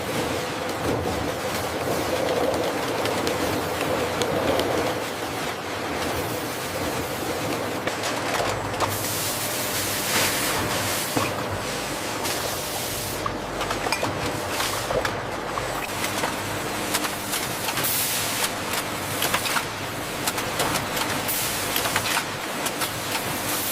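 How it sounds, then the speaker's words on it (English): A factory bottling line for a premium dragon fruit drink, with servo-driven piston fillers filling 500 ml bottles before capping, labeling and coating, gives off a continuous loud mechanical clatter and hiss. "Bottles arrive empty, get filled, capped, labeled, coated."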